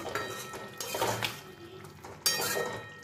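A spoon scrapes and clinks against a pan as fried shrimp, green chillies and cucumber curry are stirred together, with quiet irregular knocks and a sharper clatter near the end.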